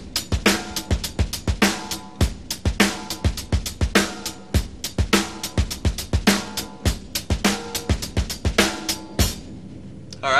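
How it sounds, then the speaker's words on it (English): Drum kit playing a steady groove in 4/4, punchy kick and snare hits with busy cymbal strikes in a driving, evenly repeating pattern, loud and close. "Now here's a beat that I like in 4-4."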